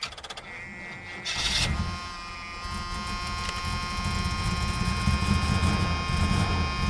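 A 1978 Oldsmobile Cutlass Calais T-top G-body catches in a garage with a brief burst near the start, then settles into a steady, close idle with a constant hum and whine.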